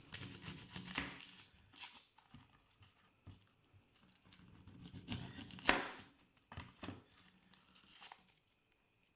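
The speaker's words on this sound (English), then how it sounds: "I'm going to use 2 onions and just cut it up like this." Knife cutting through two onions during lasagna prep at home, giving a run of crisp, crinkly slicing and crunching strokes at an irregular pace, fairly quiet and close, with no talk.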